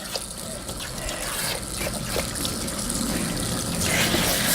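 Steady running water from a shower or tap rinsing a heavily coated dog during a bath, a continuous close splashing hiss that grows slightly louder toward the end.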